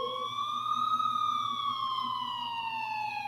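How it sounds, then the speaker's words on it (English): A police siren sound effect for an animation wails in a long, smooth rising-and-falling tone, fairly distant and steady over a faint low hum, with no voices. "until I finally heard sirens in the distance"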